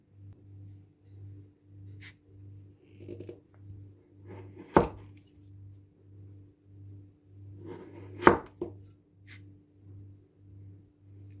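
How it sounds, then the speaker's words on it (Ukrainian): A knife cuts through a chilled chocolate sausage shaped like a Twix bar on a board, with two sharp, clear chops and a few lighter taps over a quiet, steady low hum. "Давайте наріжемо ковбаску на шматочки. Нарізається ковбаска дуже легко."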